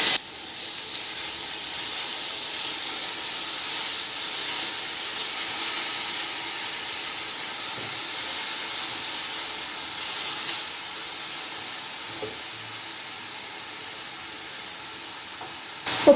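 Grated onion sizzles in olive oil in a pan, producing a steady, moderately quiet hiss that holds evenly with little variation and no talking.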